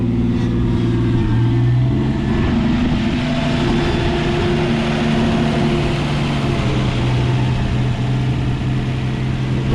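An old 1954 Ford F100 pickup, abandoned for 39 years, runs steadily while turning around, with a loud, close, rough engine drone that shifts slightly in pitch and stays unbroken throughout.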